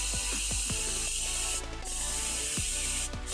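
A loud, continuous airbrush hiss spraying Army Painter Fanatic paint runs throughout, with repeated mechanical clicking and ratcheting sounds layered underneath.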